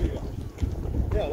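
Gusty wind buffeting the microphone at a marina in Rovinj, Croatia, a steady low rumble with uneven surges throughout, while boats and water sit faintly underneath.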